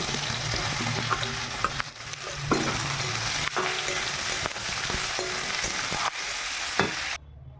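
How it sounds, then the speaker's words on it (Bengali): Raw jackfruit pieces fry in hot oil for a prawn and jackfruit dish, giving a dense, steady sizzle close by with occasional stirring knocks, until it cuts off abruptly near the end. "এবার তেলটা গরম হয়ে গেছে এবার ইঁচড়গুলো একটু ভেজে নেব"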